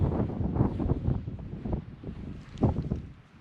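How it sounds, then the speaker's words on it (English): Wind gusting over a hilltop campsite at night beside a tent, a muffled low buffeting roar against the microphone that rises and falls in short gusts, moderately loud and with nothing else over it. "it's getting a bit windy"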